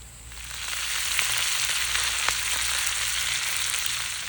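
Kale dropped into a pan with potatoes over an open fire outdoors, giving a loud, steady sizzle and crackle with a few sharp pops and no talking.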